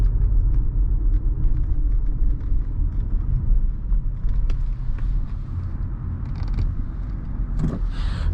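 A 2018 Toyota Highlander XLE engine hums low and smooth while driving, a steady rumble with road noise and faint cabin creaks throughout.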